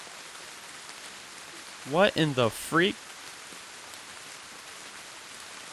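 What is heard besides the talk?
rain falling in a horror video game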